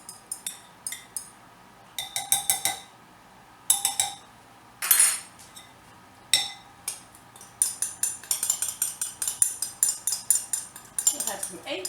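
A utensil stirs banana pudding mixture in a bowl, making irregular bursts of sharp clinks and scrapes against the bowl that grow more rapid toward the end.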